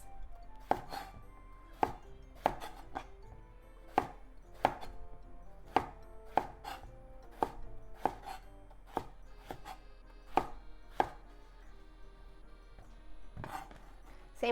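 Eggplant being chopped into bite-sized pieces on a cutting board, a steady run of crisp knife strikes roughly once a second, close and clear with no talking.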